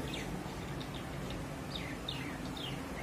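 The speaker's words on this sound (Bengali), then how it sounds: "ওইখানে চড়ুই পাখিগুলা খাবার খাচ্ছে" Sparrows chirp in short, bright bursts as they feed on a balcony during winter stormy weather, several quick calls scattered over steady low background noise.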